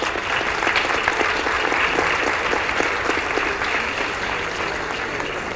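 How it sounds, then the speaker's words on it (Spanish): An auditorium audience at a tourism panel event applauds steadily, dense clapping from many hands sustained throughout and slowly thinning toward the end, with no speech over it. "Al auditorio le pido un aplauso para el panel."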